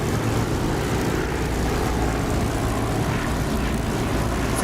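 A Spitfire's engine drones in the DCS flight simulator game, a loud, continuous propeller roar that holds steady throughout with no variation.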